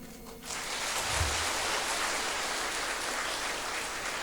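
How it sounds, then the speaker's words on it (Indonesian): Sustained applause from a seated crowd at a government ceremony in Manggarai, where civil-servant appointment decrees are handed over, starting abruptly and holding steady, dense and even, for several seconds with no voices over it. "Sekali lagi mari kita berikan tepuk tangan"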